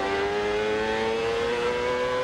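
A 1999 Honda IndyCar race engine at Long Beach holds a steady, sustained high-pitched drone at low RPM in second gear, loud and continuous with no clear gear change audible.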